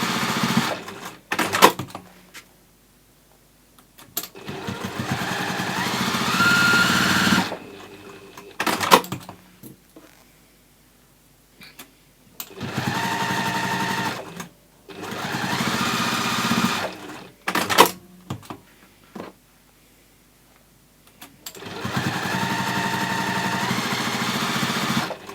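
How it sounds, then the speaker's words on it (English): Sewing machine basting fabric pieces for nesting gift baskets, running in several long continuous bursts of rapid stitching separated by short pauses and handling noises, close and fairly loud. "you can baste these in place very, very easily, just less than 1/4 of an inch so that your stitches don't show."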